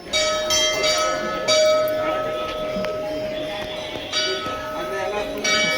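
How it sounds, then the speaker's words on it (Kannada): Many temple bells ringing at the Sowthadka Ganapathi temple, a Ganesha shrine hung with numerous bells, with repeated bright metallic strikes ringing out over crowd noise and voices. "ಇಲ್ಲಿ ಗಂಟೆಗಳೇ ಜಾಸ್ತಿ ಕಟ್ಟಿರೋದು, ಗಂಟೆ ಗಣೇಶ ಅಂತ ಹೆಸರು."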